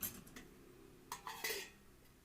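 A plate set down over a biscuit cake inside a pressure cooker gives two or three close, bright clinks of metal and crockery, with a faint tick before them and a quiet room behind.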